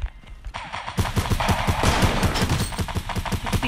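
Rapid bursts of video game gunfire, loud and close, with repeated shots in a dense automatic rhythm building into a sustained fusillade.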